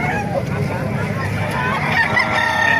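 A rooster crows loudly and close at a busy Calumpit market, the call carrying over crowd chatter and voices bargaining nearby.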